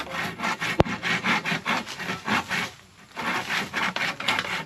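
Hand sawing through wood with a steady back-and-forth rhythm of rasping strokes, close and fairly loud, with a brief pause midway and one sharp knock near the start.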